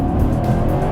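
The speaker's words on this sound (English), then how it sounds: "There's actually a really nice intake sound that comes through" Steady, loud intake and engine roar from a 2017 Genesis G90's 5-liter V8 as the big, heavy sedan accelerates, heard alone from inside the car and holding an even level throughout.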